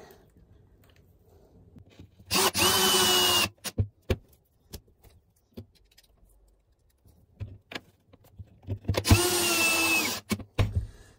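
A cordless drill driving screws on a chicken coop trap door whirs in two bursts, each followed by a few sharp ratcheting clicks of the clutch, with quiet pauses between.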